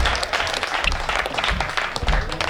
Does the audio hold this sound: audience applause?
yes